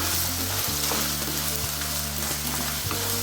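Curry leaves dropped into hot oil alongside chilli beef and coconut pieces crackle in a loud, dense, continuous sizzle, with stirring scrapes breaking through now and then.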